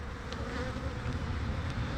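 Dense, continuous buzzing of many honey bees swarms around an open hive, close and loud throughout with no voices.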